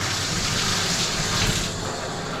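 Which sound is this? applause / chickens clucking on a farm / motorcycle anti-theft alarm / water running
water running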